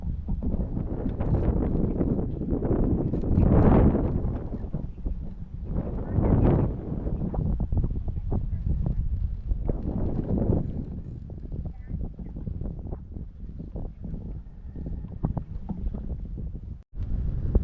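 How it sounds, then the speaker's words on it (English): Strong wind roars and buffets the microphone nonstop while fishing outdoors in fall, with loud surging gusts and a low rumble throughout. "It's crazy windy"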